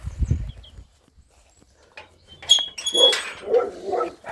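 A few dog barks ring out at the start, then a bird chirps and a voice murmurs faintly in the background.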